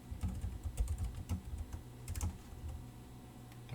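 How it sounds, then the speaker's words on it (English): Quick, light tapping of keys on a computer keyboard, a brief irregular burst of clicks, close and quiet with no talking. "and I will type"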